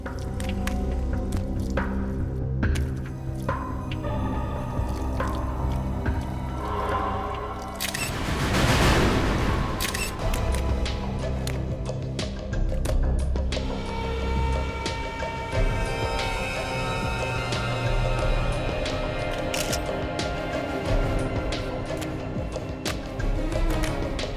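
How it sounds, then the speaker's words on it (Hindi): Water runs steadily from an open washbasin tap, splashing and gurgling into the basin with scattered drips and small knocks, continuous for the whole stretch with no talking. "किसी ने बाथ बेसिन का नली खुला छोड़ रखा है। मैं भी तो सोचूं कि पानी की आवाज आ कहां से रही है।"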